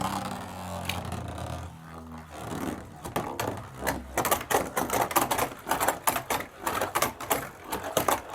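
Metal Beyblade Burst Turbo tops are launched and clash while spinning, giving a dense run of sharp rattling clicks and scrapes that grows busier after a short low whir at the start.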